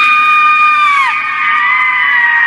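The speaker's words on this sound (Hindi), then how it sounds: "तभी बाहर से काव्या की जोरदार चीख सुनाई दी।" A loud, sustained scream from outside at night in a horror tale, a sharp high cry that holds for about a second, then bends downward and trails into a second wavering wail, with no speech over it.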